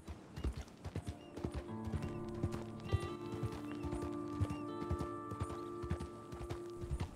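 Horse hooves clip-clop at a steady walking rhythm in Red Dead Redemption, close and distinct, with a sustained musical drone beneath and a brief whinny-like sound.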